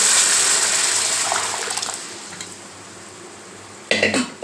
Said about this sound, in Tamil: இப்போ பருப்பு கடைஞ்சி வச்சுருக்கோம் பார்த்தீங்களா அதே இதில் ஊற்றிடலாம்